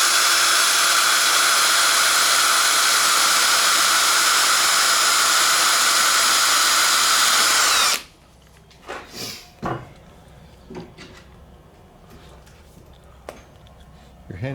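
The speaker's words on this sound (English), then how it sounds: "A little drill action." A loud, steady high-pitched power drill whirs continuously for about eight seconds, drilling a hole for a rotary sifter build, then cuts off abruptly, leaving quiet room noise with a few faint knocks.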